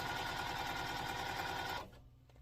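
A sewing machine stitching quilt block pieces down a short edge, a close, steady rapid mechanical chatter that runs evenly and then stops abruptly near the end.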